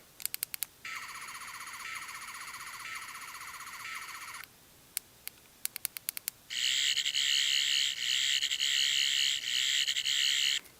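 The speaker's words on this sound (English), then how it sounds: "I can still do the sound effects with this thumb." Eleventh Doctor sonic screwdriver toy playing its electronic sound effects: bursts of high warbling buzzes separated by short clicks and pauses, fairly close and alone, with the final burst louder and more trilling.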